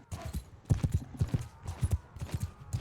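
Mounted troops gallop in Mount & Blade II: Bannerlord, a quick rhythmic clip-clop of many hooves thudding steadily and close with no talking.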